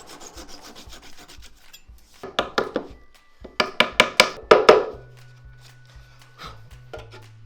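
Wooden dowels being cut to length during a van conversion build, with bursts of rapid rasping sawing strokes, close and loud, separated by quiet pauses and light handling clatter.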